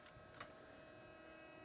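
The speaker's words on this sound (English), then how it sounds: "the print heads will be aligned because the printer will scan the page" A Brother MFC-J1410DW inkjet printer scans a print-head alignment page, a faint steady mechanical hum with a single soft click early on, close by and quiet.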